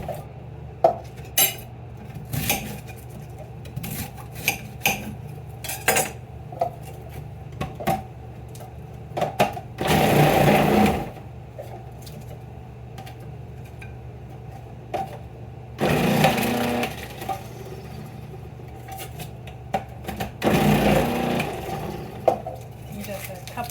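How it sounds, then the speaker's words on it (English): A knife slicing through a head of cabbage being cut up for sauerkraut, with repeated crisp chops and a few longer crunching bursts, close by and fairly loud, with brief talk in between. "Cutting up the cabbage."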